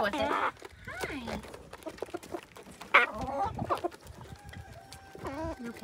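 Chickens in a homestead coop cluck and squawk in short bursts close by, mixed with a brief higher call and speech in the background.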